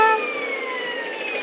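A police car siren in the video game Grand Theft Auto San Andreas wails as a steady, close, loud tone, sustained across the whole moment without speech.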